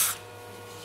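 A short hiss of throttle body cleaner aerosol spray at the start, then near silence, with another brief burst of spray just at the end.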